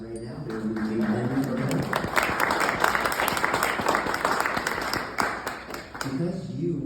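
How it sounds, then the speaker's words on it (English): A round of applause from the audience at a Citizen Historian award ceremony at the Chicago History Museum swells in after a speaking voice, fills the room with dense clapping, then fades as talk resumes. "we can start with a round of applause right now"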